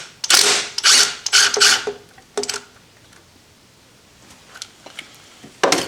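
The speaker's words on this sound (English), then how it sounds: "now I'm going to undo this 10 millimeter here" Ratchet loosening a 10 mm bolt on a Honda Civic intake: several quick bursts of close, sharp clicking strokes, then a pause with a few faint clicks and one last burst.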